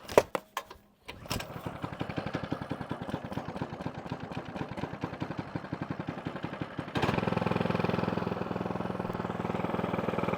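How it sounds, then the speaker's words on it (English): An Earthquake Pioneer rear-tine tiller is pull-started with a few sharp clatters, then its small engine catches and runs with a rapid, steady chug that steps up louder and rougher partway through, heard close and alone. "And you can see how easy that was to start."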